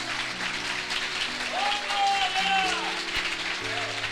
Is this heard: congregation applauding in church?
yes